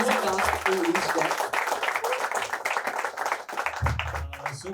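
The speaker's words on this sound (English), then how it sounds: "we should all give him a huge round of applause" A college festival audience breaks into dense clapping and cheering for a YouTuber and singer during a song promotion, loud and continuous across the moment, with a voice heard over the crowd near the end.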